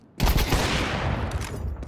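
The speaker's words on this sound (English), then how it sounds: "Oh, good shot from Lucky." Gunfire from a Counter-Strike match at the IEM Krakow 2026 esports tournament: a loud, sustained burst of rapid shots lasting well over a second, dense and close, with no talk over it.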